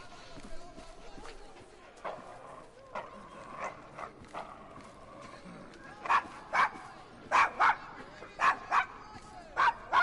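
A dog barking in the video game Assassin's Creed Syndicate, a series of sharp, loud barks arriving in quick pairs over the second half, following fainter game sounds and brief noises.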